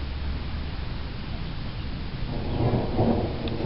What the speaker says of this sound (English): Still hear the thunder.